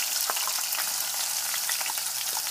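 Garlic and onion fry in a hot skillet with a dense, steady, close sizzle and a few faint crackles and taps, alone and without voices.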